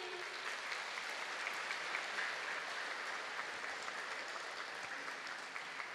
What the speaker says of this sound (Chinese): 掌声响起。